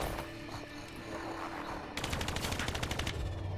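Rapid machine gun fire in the Call of Duty Black Ops III video game, a steady loud burst of evenly spaced shots starting partway through, following a quieter stretch of game ambience.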